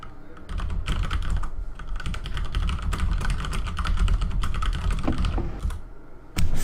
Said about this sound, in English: Furiously typing away here, trying to make sure everybody's all lined up.